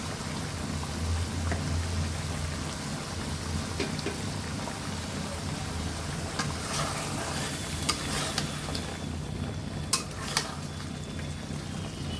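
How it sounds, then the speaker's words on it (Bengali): Fish sizzles steadily in hot oil in a pan while being stirred for a home-style Bengali fish curry, with a continuous close frying hiss and a few sharp spatula clinks near the end. "মাছগুলো ভালোভাবে কষায় নিব"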